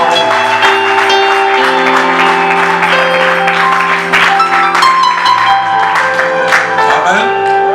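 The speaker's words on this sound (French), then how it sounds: "Est-ce que nous pouvons acclamer très fort pour cette parole?" A church congregation applauds loudly and steadily after a sermon, dense sustained clapping mixed with music or held tones and crowd noise throughout.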